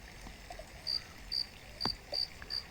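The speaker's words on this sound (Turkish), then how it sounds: "çekirge sesleri geliyor" Short, high-pitched grasshopper chirps repeating at a steady pace, about five evenly spaced bursts over quiet forest background.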